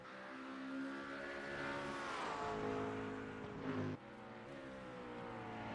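A race car at Oulton Park roars steadily past, its engine note sweeping down as it goes by, with another engine drone continuing in the background at a moderate distance.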